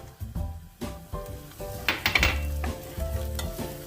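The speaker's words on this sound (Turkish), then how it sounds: "soğanlarımı iyice burada karamelize olana kadar kavuracağım" Onions fry toward caramelization in a pan, a soft sizzle under repeated scraping strokes and clinks of a utensil stirring against the pan.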